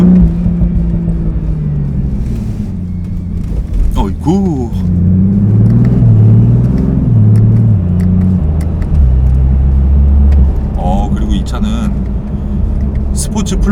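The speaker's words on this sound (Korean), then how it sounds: "스포츠 플러스 모드에서 RPM이 1500 밑으로 내려가니까 부밍이 좀 있습니다" BMW Z4 M40i running in Sport Plus mode below 1500 RPM gives a deep, steady engine boom and low drone, loud and close, with a brief swell partway through.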